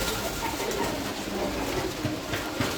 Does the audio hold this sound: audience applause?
no